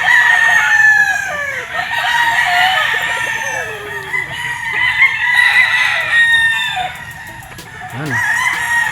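A Sweater gamecock rooster on a game farm crows loudly and close by, with long drawn-out calls repeating across the clip and a few clucks between them.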